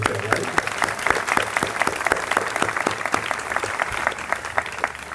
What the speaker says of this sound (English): big round of applause for those people today, right?